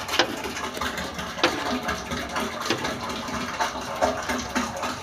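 A freshly repaired engine-driven pump machine, left standing for months, running with a steady chugging engine and gushing water, irregular clanks and thumps recurring over the drone.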